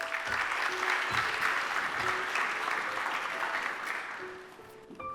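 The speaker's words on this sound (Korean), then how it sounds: "큰 박수로 맞이해 주십시오" Audience applause at a Hawaii Korean community association candidate debate, a sustained wash of clapping in a hall that gradually thins out and fades near the end.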